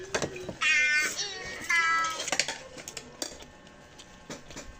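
A cat meows close by, two long drawn-out calls followed by shorter chirps, with light ticks and clatter in the background.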